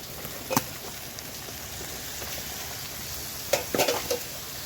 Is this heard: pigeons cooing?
no